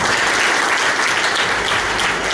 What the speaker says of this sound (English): Big round of clap please.